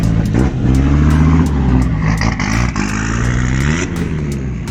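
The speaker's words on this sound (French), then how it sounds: "Petite Alpine à 110" A classic Alpine A110 sports car engine runs close by, a steady throaty drone with shifting pitch as the revs rise and fall, punctuated by sharp clicks and clatter.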